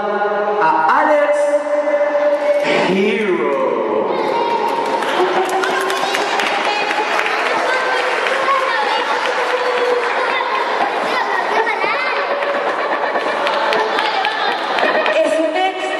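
A lucha libre wrestling crowd at a Legión event cheering and clapping for Alex Hero's return to the ring, a noisy sustained roar with chatter, an announcer's voice and music layered over it.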